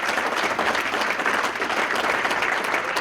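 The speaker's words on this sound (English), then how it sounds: "Another round of applause for that." Steady, dense applause from an audience honoring a high school football team at a city ceremony, continuous and fairly loud throughout with no break.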